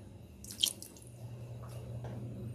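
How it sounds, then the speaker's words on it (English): A tablespoon of balsamic vinegar is poured into a pot of beef stew, making a brief, faint liquid splash and drip against a quiet kitchen background. "And we're gonna put the balsamic vinegar."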